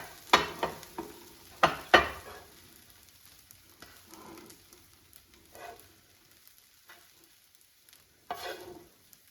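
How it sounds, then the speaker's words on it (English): A spatula scrapes and stirs carrot rice in a sizzling frying pan, several clattering bursts up close, then quieter scraping with a final scoop near the end as the rice is removed. "let's turn off the heat and remove the rice from the frying pan"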